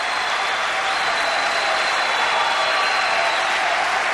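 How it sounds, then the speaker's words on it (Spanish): A Basque pelota crowd at a 2006 manomanista semifinal rises to its feet applauding a player, a dense, continuous roar of clapping filling the fronton without a break. "El público se pone en pie y aplaude a Sebastián."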